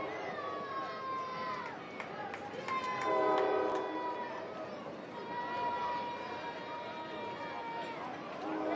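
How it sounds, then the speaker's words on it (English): A train rolls past WakeMed Soccer Park during a professional soccer match between North Carolina FC and New Mexico United, its horn sounding in several long blasts over a steady rumble while a commentator talks and the stadium murmurs. "The familiar sound of a train rolling by Wake Med Soccer Park."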